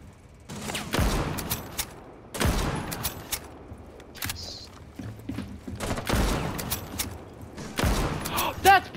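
Gunfire in a video game comes as several loud, sharp bursts spaced a second or two apart, with quieter mechanical clicks and room noise between them.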